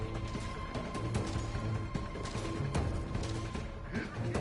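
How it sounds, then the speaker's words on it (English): A loud, crashing explosion from the Outer Worlds 2 video game, set in a combat scene with an explosives build, fills the whole stretch with dense rumbling debris and blast noise. "An explosion!"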